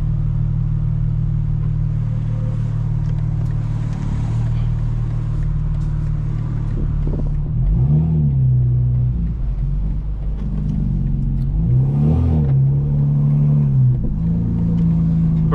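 A Stage 2 tuned 2025 BMW M4 Competition xDrive making about 800 horsepower, heard from inside: a loud, constant engine rumble, with deeper pops and burbles rising twice near the end.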